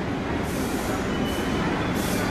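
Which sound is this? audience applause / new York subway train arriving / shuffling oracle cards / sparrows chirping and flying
new York subway train arriving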